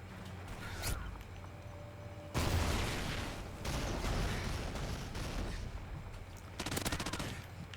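Gunfire in Call of Duty Ghosts multiplayer on PS4, a few bursts and sustained shooting at moderate volume, game sounds without speech.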